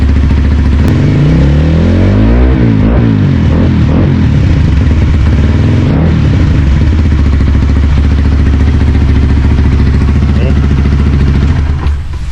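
A Honda Winner X 150 fitted with a replica aftermarket exhaust revs loudly and continuously up close, its throttle rising and falling in repeated blips over a steady droning idle.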